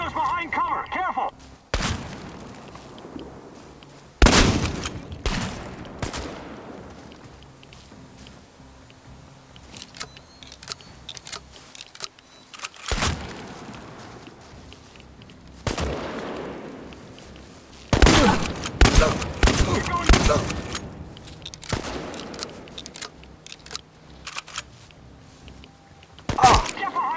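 Gunfire in a firefight in the game Chernobylite: loud, sharp shots and bursts at irregular intervals, with voices talking over the combat.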